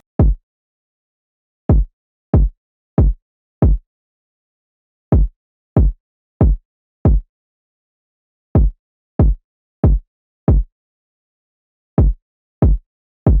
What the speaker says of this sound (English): I just came up with this very simple kick pattern